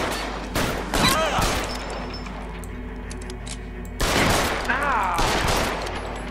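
Rapid gunfire during a shootout in L.A. Noire: bursts of sharp shots early on, a lull with a steady low hum, then another loud volley, with voices shouting between the bursts.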